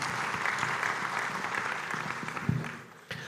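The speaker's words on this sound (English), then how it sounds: "I would like to request if we could give them a hand of applause" Audience at an East African accountants' congress applauding sponsors, a steady wash of many hands clapping, with a couple of louder thumps near the end as it tapers off.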